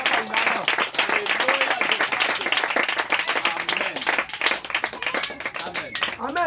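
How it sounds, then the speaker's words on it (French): A church congregation claps loudly and continuously in acclaim of the Lord, dense close applause filling the room, with voices talking and calling out underneath. "Est-ce qu'on peut acclamer le Seigneur?"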